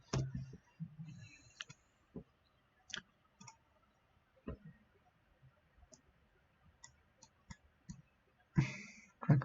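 A computer mouse clicks during video editing, sharp isolated clicks scattered irregularly with quiet pauses between them, close and fairly faint.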